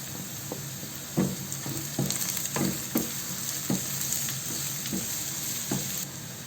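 Chopped garlic sizzles in hot oil with lightly browned onions for a fish bhuna, a steady close frying hiss broken by regular soft stirring scrapes.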